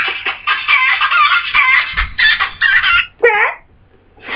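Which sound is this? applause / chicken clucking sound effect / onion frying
chicken clucking sound effect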